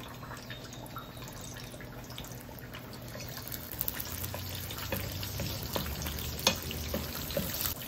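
Onion dropped into a pan of browned garlic sizzles and fries steadily, with soft stirring and dripping sounds close by, growing a little louder toward the end.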